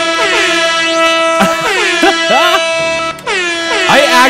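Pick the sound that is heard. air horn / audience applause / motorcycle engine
air horn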